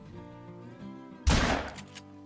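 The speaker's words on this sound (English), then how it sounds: "We will take the shot." A rifle fires at an animal in the hunting game Call of the Wild on Te Awaroa, one sharp, loud crack after a quiet stretch, followed by a short ringing tail.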